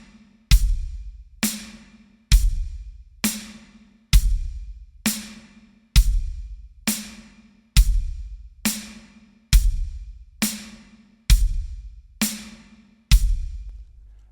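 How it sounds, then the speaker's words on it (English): Drum kit playing a slow quarter-note groove, bass drum on one and three and snare on two and four under a steady hi-hat, evenly spaced sharp hits ringing out, close and alone. "we're going to have a bass drum on the 1 and the 3 and the snare drum on the 2 and the 4"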